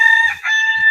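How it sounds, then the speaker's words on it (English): Chickens on a farm squawking loudly and close by, with a short rooster-like crow and clucking in a brief burst. "why are there chickens yelling at each other?"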